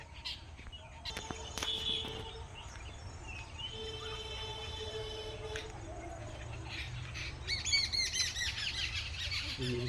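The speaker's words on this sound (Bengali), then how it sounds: "এখানে পাখিগুলো সন্ধ্যাবেলা চলে এসছে শুধু উড়ে বেড়াচ্ছি" Birds call and chirp at evening beside a road near the Dariapur lighthouse park, several overlapping tweets and squawks at moderate distance over a low hum, with brief bursts of louder chirping toward the end.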